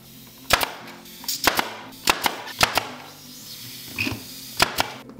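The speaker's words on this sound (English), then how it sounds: "I'm gonna glue it and then staple it on there with an 18 gauge" An 18 gauge pneumatic stapler fires one-inch nails into kitchen island trim, giving sharp, loud, close snaps in irregular pairs and singles, about ten shots over several seconds with quiet gaps between.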